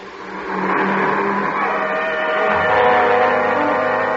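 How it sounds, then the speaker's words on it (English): A car engine draws near and swells steadily louder, a close, continuous motor roar with a rising surge toward the end, staged as a suspense radio drama effect. "Here comes the car."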